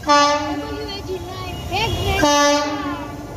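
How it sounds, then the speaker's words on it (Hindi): A WAG9 electric locomotive hauls the Rajkot-Veraval passenger train, sounding long sustained horn blasts with a wavering pitch shift midway, then a steady horn tone again over low rumbling. "राजकोट वेरावल पैसेंजर शाम की ट्रेन वेग नाइन के साथ जाने वाली"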